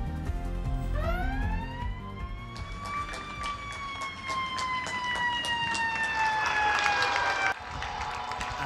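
Fire brigade sirens wail at length in a tribute to hospital workers outside the Hospital de la Florida, rising and falling tones sustained and loud, with a sound of applause or crowd beneath them.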